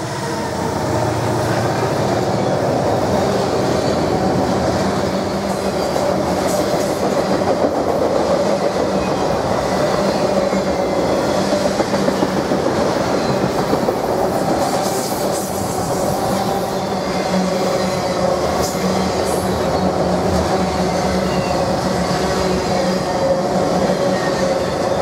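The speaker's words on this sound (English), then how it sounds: "beginning with westbound autorack train 31M, led by a single" A westbound autorack freight train led by a single SD70M-2 locomotive rolls past at Swanton, Ohio, in the late evening, with a loud, continuous rumble and rail noise that stays steady throughout.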